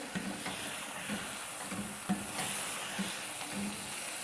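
Bottle gourd halwa is stirred and roasted in ghee in a pan, giving a soft continuous sizzle broken by a few faint spoon scrapes, close but quiet, with no voices.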